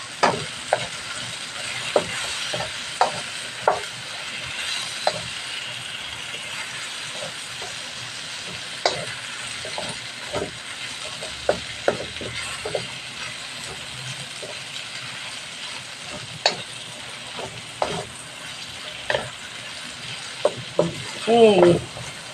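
Garlic, onion and carrots are sautéed in a pan for a shrimp curry with coconut milk. A steady frying hiss runs throughout, broken by intermittent sharp clacks and scrapes of a utensil stirring up close.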